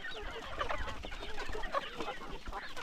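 Chicks about three months old on a farm peep and cluck together in a busy overlapping chorus, fairly faint and steady throughout.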